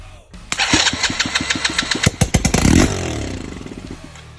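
A 110cc scooter engine sputters through several quick cranking pulses, then catches and revs briefly before settling into a rough, steady idle.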